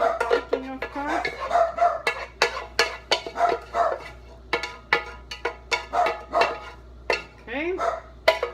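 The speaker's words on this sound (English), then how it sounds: "And the dogs start barking" Dogs bark over and over in quick, sharp bursts close by in a home kitchen, with a voice speaking now and then among the barks.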